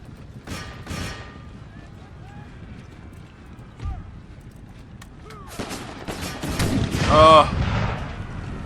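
Artillery and musket fire crack through a Civil War battle in Empire: Total War, with scattered shots and a louder burst of gunfire near the end over a steady background din, mixed with hoofbeat-like clatter.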